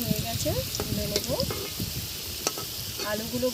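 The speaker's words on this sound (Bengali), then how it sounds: "আলুগুলো এখন ভেজে নেব।" Whole small potatoes fry in hot oil with a little salt in a pan, giving a steady close sizzle with occasional stirring clatter and faint voices in the background.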